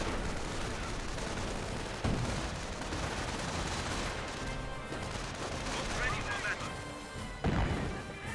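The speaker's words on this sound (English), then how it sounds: "Good mortar hit there." Mortar shells landing in the Company of Heroes battle game, heavy crashing impacts that stand out over a dense bed of gunfire and combat noise while a commentator talks throughout.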